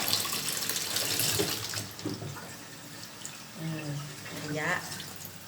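Fresh snow lotus rinsed under a running kitchen tap, a steady close stream of water splashing in a sink while someone talks over it.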